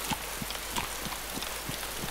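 Rain falling in the survival game DayZ on a windy mountain, a steady hiss with regular soft thudding drops repeating every third of a second, quiet and alone.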